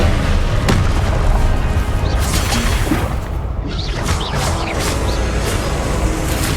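Blasting spell explosions in Hogwarts Legacy, heavy booming impacts with whooshing swishes and crashing debris over a dense, loud game soundscape.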